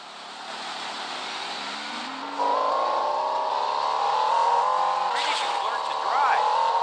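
A car in the Taxi Sim 2020 mobile game drives fast, its steady engine drone jumping in pitch partway through and then climbing as it speeds up, with faint background effects.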